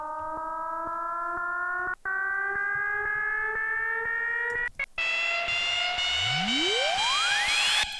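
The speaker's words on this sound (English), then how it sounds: "I made this riser myself in Alchemy" Synthesized riser effect built in Alchemy for a remix bridge: layered tones climbing steadily in pitch, with brief dropouts, then a sweeping glide shooting upward at the end, moderately loud with no talking.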